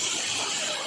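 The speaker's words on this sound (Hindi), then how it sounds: "देखो ऊपर तक झरना है" A waterfall beside Ghumareswar Shiv Temple gushes in a dense, steady hiss of falling water, close and fairly loud, with no one speaking.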